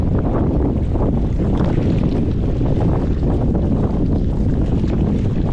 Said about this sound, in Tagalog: Grabing hangin. Ay, ito na siguro yung bagyo oh.